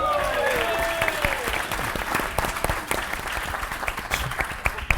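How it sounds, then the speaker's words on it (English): Audience clapping at a classic car forum panel, moderate and fairly close, with scattered sharp claps and a voice or two mingled in over a steady wash of applause. "I hope this will be met with a round of applause"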